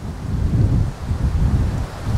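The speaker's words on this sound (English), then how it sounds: "Super windy today. Super, super windy." Strong wind buffets the microphone in low, rumbling gusts that rise and fall continuously, with no other sound.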